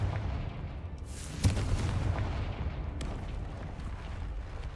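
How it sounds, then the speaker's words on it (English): A fiery Confringo spell blast in the Hogwarts Legacy video game: a sharp booming burst followed by a rumbling, crackling fiery tail, with further muffled thuds of battle, no talking. "Confringo!"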